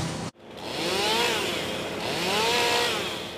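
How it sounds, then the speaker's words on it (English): Chainsaws cut up storm-toppled trees in a tree-lined residential street after a tornado, revving with a loud, steady buzz after a brief cutout and rising into a second surge. "The sound of chainsaws and wood chippers fills this tree-lined neighborhood in North Aurora."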